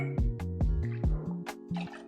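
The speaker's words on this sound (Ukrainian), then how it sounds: "Далі ми наливаємо 350 мл віскі," Whisky glugs in rhythmic pulses as 350 ml is poured from a bottle into butter, a close, bubbly series of liquid gulps that gradually loosen into splashier trickles.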